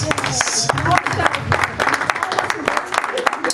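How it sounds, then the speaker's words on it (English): An audience claps during a budget seminar, brisk scattered applause mixed with voices and talk over the clapping. "Let's give her a round of applause"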